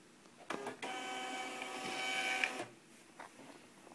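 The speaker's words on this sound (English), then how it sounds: "the labels are gonna come out the printer right here" A label printer turning out a batch of shipping labels whirs mechanically for about two seconds, close by in a quiet room, with a few soft clicks and taps before and after.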